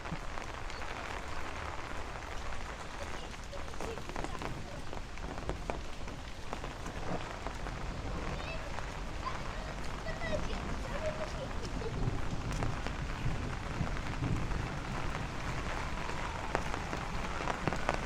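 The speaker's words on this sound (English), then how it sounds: "Now I could see the rain getting heavy again, possibly." Heavy thunderstorm rain pours steadily on a Brooklyn street, a dense hiss of drops drumming on surfaces throughout, with no letup.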